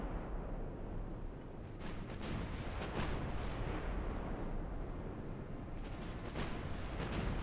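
Battleship 12-inch guns firing in a naval video game battle, a continuous low rumbling roar of heavy gunfire with repeated distant booms layered over one another, fairly faint, no talk.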